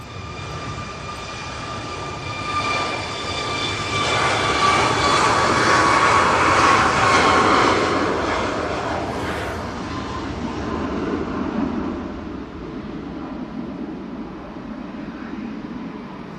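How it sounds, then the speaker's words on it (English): ATR 72 turboprop arriving from Aberdeen and landing at windy Manchester Airport, its engine drone swelling with a steady whining tone as it passes close, then easing back to a lower rumble. "So this flight has come in from Aberdeen. It's the ATR 72."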